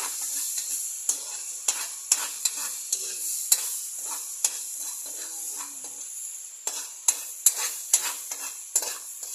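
Food is stirred in a frying pan while a low sizzle runs underneath, and repeated sharp scrapes and clacks of the spatula against the pan land in an irregular rhythm close by.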